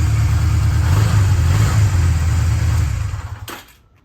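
A street bike engine idles and revs loudly and steadily, close by, with a deep low rumble, then cuts off abruptly near the end, leaving near silence.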